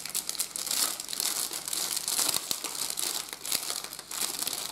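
Crinkly plastic packaging of a 1/72 scale T35 tank model kit being handled and torn open, with dense, irregular crackling and rustling bursts held close to the microphone, no talk.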